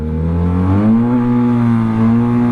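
Close and loud, a Yamaha TMAX 530 DX scooter's engine revs during a wheelie, its steady drone rising in pitch and holding high before dipping slightly.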